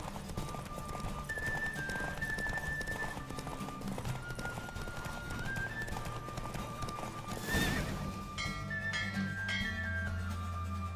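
Horse hooves gallop steadily through a race in The Witcher 3, with a whinny and game music layered over the continuous clip-clop, loud and close throughout.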